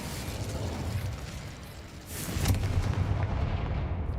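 A Confringo explosive spell goes off in the Hogwarts Legacy video game, with a dense rumbling roar that swells into a louder, booming burst halfway through and then holds as a heavy, sustained blast, loud and close.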